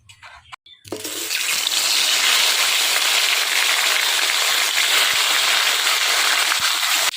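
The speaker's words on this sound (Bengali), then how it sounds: "এবার আমি বাকি মাছগুলো ভেজে নেব।" The remaining pieces of shol fish going into hot oil in a pan, Bengali home cooking: after a brief quiet start, a loud, steady hissing sizzle bursts up and holds evenly to the end.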